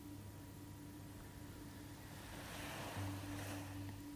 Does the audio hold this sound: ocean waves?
yes